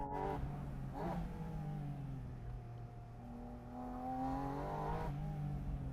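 A Porsche engine revving as the car slips through a curve, its tone swelling and falling in several surges, loud and close, with no voices.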